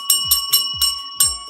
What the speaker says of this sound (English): Give her the bell.